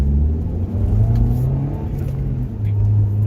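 A 1989 Honda CRX Si accelerates past traffic, its engine note rising as a loud, steady low-pitched hum and rumble that holds close and continuous throughout, with a brief dip and swell midway.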